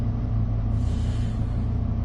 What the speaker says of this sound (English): maybe it's like the air reservoirs or the air brakes or something,